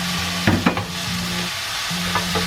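Peeled tomatoes hitting hot oil with scallion and garlic, a steady loud sizzle and frying hiss with a few stirring scrapes, close up and without voices.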